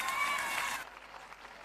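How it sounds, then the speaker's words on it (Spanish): Audience at a women's football team presentation event applauds as dancers take the stage, a short burst of clapping and crowd noise that quickly drops to a faint murmur. "Chicas, al escenario. Un aplauso para ellas."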